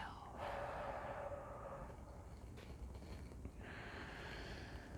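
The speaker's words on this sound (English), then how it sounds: "Take a deep breath. Hold it for a moment, and then exhale." A slow, deep breath drawn in, held briefly, then let out as a soft, airy exhale, close to the microphone over a steady background hiss.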